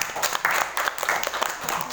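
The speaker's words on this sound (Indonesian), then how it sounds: "Ya, kasih tepuk tangan." A high school classroom of students claps briefly, a short burst of uneven hand claps close by with some voices mixed in.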